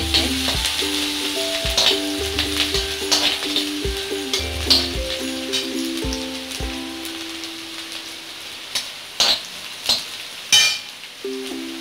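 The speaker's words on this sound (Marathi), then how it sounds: "आणि हे सर्व मिक्स करून घ्यायचे।" Ginger and finely chopped green chilies stir-fry in a pan for a Manchurian gravy, a soft sizzle under a steady tonal hum, with sharp spatula scrapes and taps growing more prominent toward the end.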